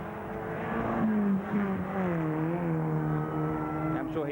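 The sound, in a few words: racing car engine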